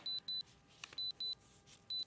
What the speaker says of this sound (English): Beep, beep, beep. Something, grab the mic, get that out of the microwave. Something's cooked.